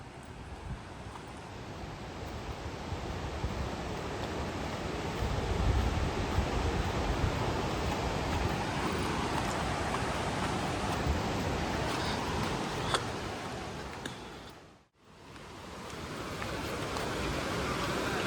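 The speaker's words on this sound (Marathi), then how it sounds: "आता धबधबा आलेला आहे" Steady roar of the Ranpat waterfall in a Konkan forest, a broad continuous rush heard close and fairly loud throughout, with a brief dip near the end.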